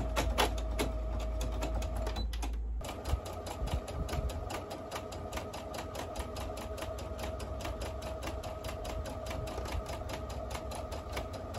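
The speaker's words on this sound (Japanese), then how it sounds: "裾を縫います。" A sewing machine runs steadily, stitching the hem of cotton yukata fabric being made into a jinbei, with a short pause near the start and then continuous rapid rhythmic needle clatter close by.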